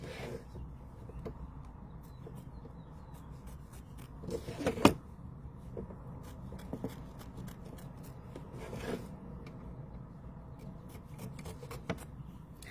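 Quiet rasping and rubbing of excess material being trimmed from a handmade bee coaster, steady low scraping with a few sharper cuts, close and soft.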